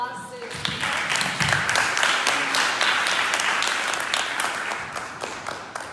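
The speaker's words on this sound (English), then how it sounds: "So can we give a round of applause to" Audience applause at a youth justice panel event honoring the hosting immigrant youth alliance: loud, sustained clapping throughout, with voices and cheers mixed in near the start.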